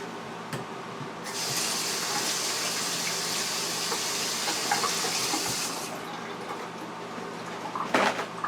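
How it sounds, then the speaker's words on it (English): Kitchen tap water running steadily into a sink during handwashing while baking a pineapple upside-down cake, a broad hiss lasting several seconds before shutting off, followed by a few clattering handling sounds. "let me wash my hands"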